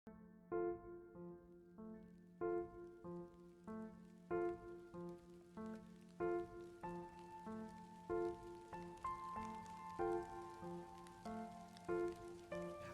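Soft rain ambience hisses quietly beneath a gentle composition for two pianos, whose repeated chords and high melody notes ring out clearly over the steady patter.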